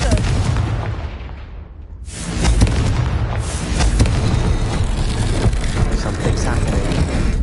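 A Confringo spell blast in Hogwarts Legacy: after a brief quieter dip, a loud booming explosion bursts in and rolls into dense, rumbling crackles and impacts, with a voice briefly heard.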